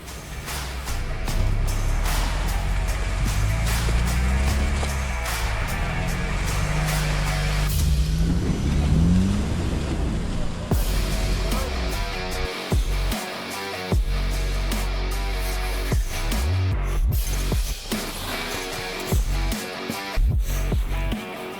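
A Mitsubishi Pajero with a knocking fault drives along a rough road, its engine and tyre rumble loud and steady throughout, with shifting low tones and occasional thumps and creaks from the cabin.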